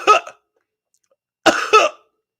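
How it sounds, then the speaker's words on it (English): A person coughs up close, one short cough followed by a pause and then a loud double cough, with silence in between. "Cough."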